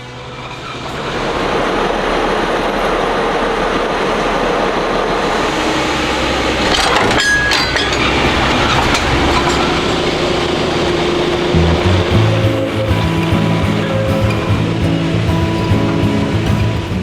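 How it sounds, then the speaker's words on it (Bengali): Darjeeling Himalayan Railway train climbing a zigzag, a loud, steady rumble of wheels and engine running continuously with rattling and clanking, close by and unbroken. "ইংরেজি অক্ষর জি বা জেড এর মতন জিগজ্যাগ করে ট্রেনটি নিচু থেকে উঁচুর পথ ধরে।"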